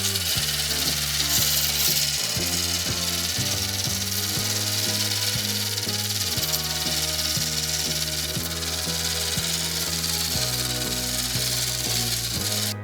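A rock polishing machine bevels the edge of a stone cabochon, giving a steady motor whir with a rhythmic grinding rub as the stone is turned against the wheel.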